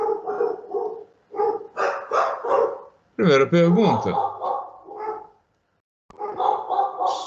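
Dogs bark in a short loud burst in the middle, mixed with a man's lecturing speech before and after.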